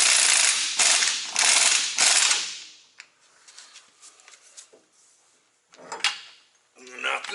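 An impact wrench running off a 1.25 inch nut on a truck gives several loud bursts of whirring hammer chatter, then quieter metallic clinks and handling noises, with someone talking.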